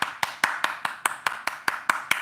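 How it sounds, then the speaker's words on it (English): Audience hand clapping at a gathering, about eleven evenly spaced, sharp claps in a slow, steady rhythm, fairly close and moderately loud with no talk over them. "Hand claps for the sister."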